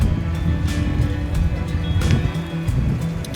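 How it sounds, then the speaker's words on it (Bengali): Sea waves roaring on Old Digha beach in the evening with a cold wind, a steady broad wash of surf and gusts with occasional softer bursts, no voices. "সমুদ্রের গর্জন শুনতে পাচ্ছি তার সাথে চলছে ঠান্ডা হাওয়া"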